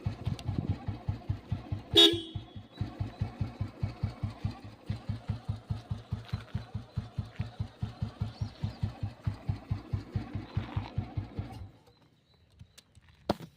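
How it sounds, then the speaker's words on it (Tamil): A single short horn beep near the start, heard over the steady puttering of an idling Royal Enfield Bullet Deluxe motorcycle nearby, which fades out near the end. "ஹார்ன் போட்டு காமிச்சாரு."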